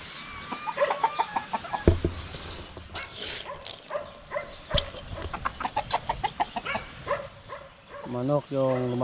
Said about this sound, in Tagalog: Manok yung lumapit.